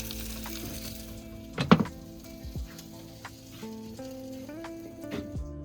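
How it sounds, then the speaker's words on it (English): Food sizzles on a barbecue over a wood fire at a rural Australian glamping retreat, a quiet steady hiss with a sharp clatter of utensils near the start and soft scraping and knocks afterward. "Ooh, it's sizzling."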